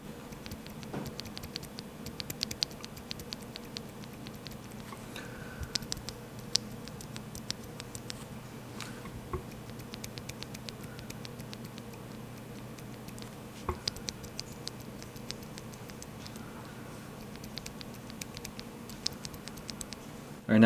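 Bare mechanical keyboard switch fitted with a thick 3D-printed switch film, pressed right against the mic, giving faint rapid clicky taps and scratchy patter in steady bursts over a low hum.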